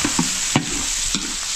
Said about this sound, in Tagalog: So magkikisa na tayong bawang, sibuyas para sa ating adobo.